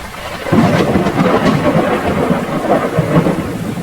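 Rain with thunder in a Hindi cartoon story, a steady loud downpour hiss with low rumbling thunder rolling underneath, no voices.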